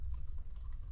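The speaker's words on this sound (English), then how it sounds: "So I'm going to type list" Quick keystrokes on a computer keyboard, a short cluster of soft, close taps during a WordPress tutorial, with no talk.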